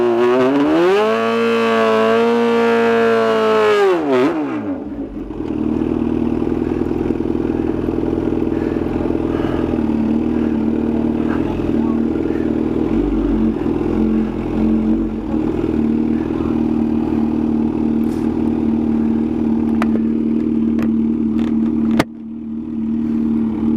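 A Kawasaki ZH2 motorcycle on a drag strip run: the engine revs up with a rising pitch for about five seconds, dips, then holds a loud, steady roar close by until the end.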